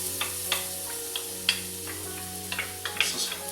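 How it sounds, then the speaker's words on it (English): Several garlic cloves crackling in about four tablespoons of olive oil in a big pan, with soft sizzle and a handful of sharp pops and ticks scattered over a few seconds, close and fairly quiet, no talking. "I got about 4 tablespoons of olive oil in my nice big pan here, and I'm going to dump in about 3 to 4 cloves of garlic"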